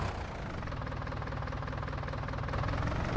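A yard tractor engine idles steadily in Farming Simulator 19, a low even rumble with faint knocking, constant and close with no voices.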